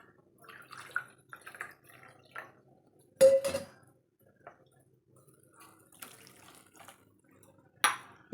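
Water splashes from a tumbler into a cooking pot for wheat rava, one short loud pour mid-clip, with faint kitchen clinks and drips around it.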